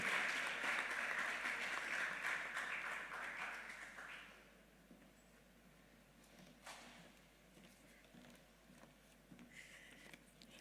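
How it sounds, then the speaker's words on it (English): Audience applause at a climate change and green economy week opening ceremony welcomes a speaker, fairly loud at first, then thinning out over several seconds into scattered, quieter claps. "Shall we please welcome her with a round of applause, please?"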